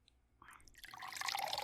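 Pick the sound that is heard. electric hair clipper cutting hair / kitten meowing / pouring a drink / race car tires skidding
pouring a drink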